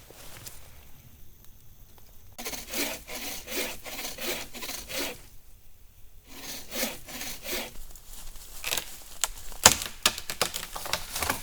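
Sawing a log for firewood at a lean-to campsite makes repeated rasping back-and-forth strokes of a hand saw biting through wood, close and fairly loud, with brief pauses between bursts.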